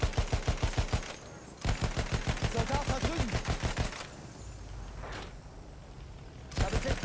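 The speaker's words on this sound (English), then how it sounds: "I think it's the landship shooting at us" A landship firing in the Battlefield 1 game, with rapid bursts of repeated gunfire in fast rhythmic volleys broken by brief pauses, loud and close, with scattered distant booms between bursts.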